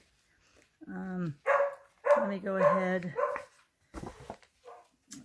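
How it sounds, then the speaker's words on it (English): A dog just back from a walk gives a burst of whining, yelping barks, then short whimpers and yips that trail off, close by, with someone speaking briefly over it. "Oh, and there goes my dog."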